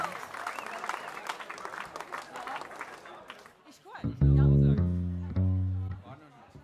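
Crowd at an outdoor blues concert claps and cheers with voices mixed in, the applause thinning out partway before loud sustained keyboard or organ chords take over.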